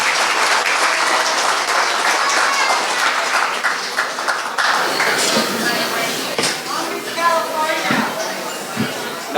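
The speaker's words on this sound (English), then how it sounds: "Let's give a round of applause for John." A bar audience at a brewery performance set gives a round of applause for John, a fisherman, with clapping loud at first, then thinning as voices and talk come through over scattered claps.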